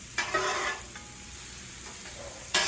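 Butter sizzles on a Blackstone flat-top griddle while smash burgers and mushrooms cook, a steady frying hiss with brief scraping bursts at the start and again near the end, no voices.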